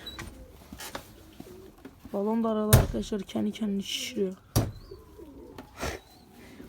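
Pigeons in a snow-flooded coop give a few low, throaty coos close by while someone talks over them, with a couple of sharp knocks and door-like bangs in between.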